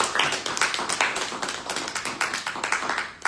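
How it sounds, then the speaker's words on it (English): A seminar audience claps together, a close burst of quick uneven hand claps that keeps a steady pulse for a few seconds without any talking. "Clap for yourself for coming in."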